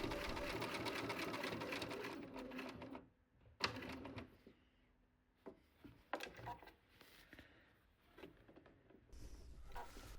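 Sewing machine stitching a diagonal line across a vanity case, a rapid needle chatter at the start that stops, followed by quiet handling, rustling and a few short bursts of stitching.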